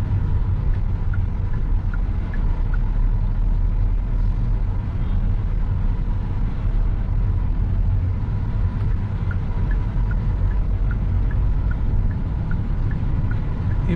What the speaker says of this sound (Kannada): ಸೊ ಸ್ಪೋರ್ಟ್ಸ್ ಮೋಡಲ್ಲಿ ಯಾವ ಥರ ಗಾಡಿ ಪರ್ಫಾರ್ಮೆನ್ಸ್ ಆಗುತ್ತೆ ಅಂತ ನೋಡೋಣ